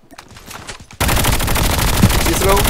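Call of Duty Mobile gunfire erupts suddenly into a loud, continuous spray of rapid shots after a short stretch of quieter game noise, with a player's voice talking underneath.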